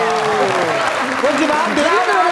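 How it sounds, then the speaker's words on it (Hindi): A studio audience at a comedy talk show claps in a sustained, dense burst of applause while voices talk over it. "भाई के लिए तालियां"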